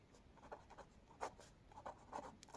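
A pen scratches across paper while a maths exercise is written out, with quiet irregular strokes and taps close by and no voice.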